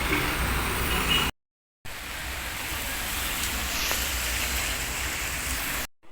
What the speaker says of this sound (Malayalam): ഭയങ്കര മഴയെന്ന് വെച്ചാൽ ഒടുക്കത്ത മഴയാണ്